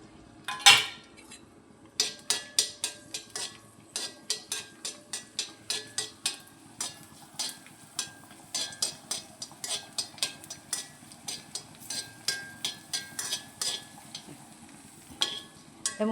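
Raisins being stirred and fried in ghee in a pan, steady repeated clinks and scrapes of a metal spoon against the pan in an uneven rhythm, close and clear with a faint sizzle beneath.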